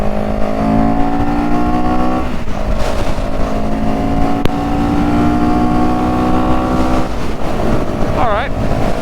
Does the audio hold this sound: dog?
no